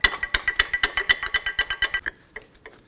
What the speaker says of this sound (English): we're going to put our gear wrench up inside there to go ahead and loosen that